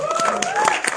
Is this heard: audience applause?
yes